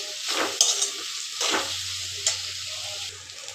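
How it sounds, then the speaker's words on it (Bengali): Onions frying in a pan with turmeric and salt for doi katla fish curry, a soft steady sizzle punctuated by a few stirring scrapes, close and fairly quiet. "এখন আমার পেঁয়াজ ভাজাটা হচ্ছে।"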